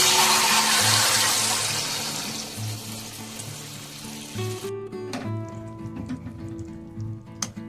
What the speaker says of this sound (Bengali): এই পর্যায়ে আমি অ্যাড করে দিলাম জল।